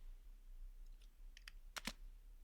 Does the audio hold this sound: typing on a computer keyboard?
yes